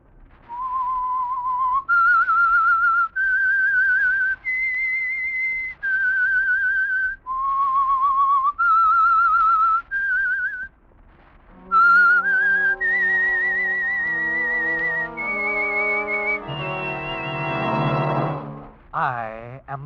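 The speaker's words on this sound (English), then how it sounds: "That whistle is your signal for the signal oil program," The whistled theme tune of The Whistler, a 1948 radio mystery program, rises in a series of clear held notes, played solo and fairly close, then shifts into a brighter orchestral-style passage of sustained tones.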